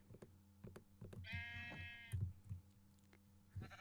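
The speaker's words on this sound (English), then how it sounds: "a dispenser on top which is powered, complete with shears to automatically shear the sheep" A sheep bleats once in Minecraft, a clear wavering call amid quiet keyboard clicks and taps in the background.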